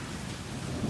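Steady rain with low rumbling thunder swelling toward the end, a continuous close outdoor wash with no voices.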